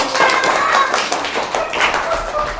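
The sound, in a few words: children clapping for a classmate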